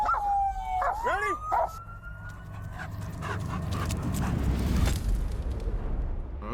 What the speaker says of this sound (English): Send this dog!